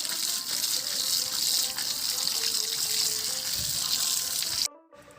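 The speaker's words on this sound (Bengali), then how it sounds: "এই এঁচড়গুলোকে আমি ঠান্ডা জলে ধুয়ে নিচ্ছি।" Jackfruit pieces are washed in cold water with a steady gushing tap stream and splashing close by, running continuously before stopping abruptly near the end.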